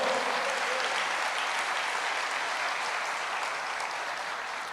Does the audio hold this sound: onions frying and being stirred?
no